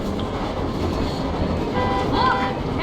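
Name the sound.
train passing in the video game Metro Exodus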